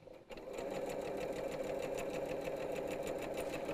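A sewing machine stitches a quilt panel, its close, steady mechanical whir running continuously after a brief start, with no voices over it.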